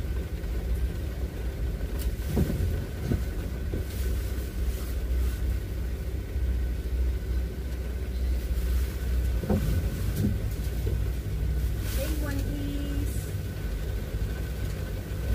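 A car driving through a road tunnel, its steady low rumble filling the enclosed space throughout, with a few faint knocks and swells along the way.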